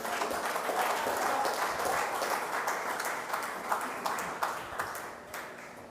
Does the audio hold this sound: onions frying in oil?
no